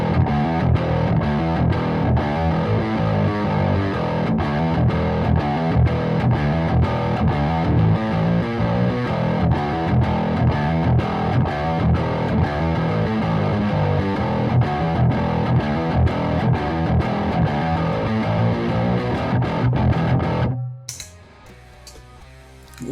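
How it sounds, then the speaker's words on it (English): A distorted modified Precision Bass guitar chugs a heavy, driving riff nonstop, then cuts out to a brief quieter tail at the end. "If you put some distortion on, you can actually make it sound a bit like an 8-string guitar."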